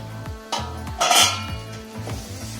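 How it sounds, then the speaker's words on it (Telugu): A lid going onto a pan and a spoon stirring carrot chutney, sharp metallic clanks and scrapes at uneven intervals with ringing tones, close and loud, no talking. "అది మూతేసి కలుపుకుందాం"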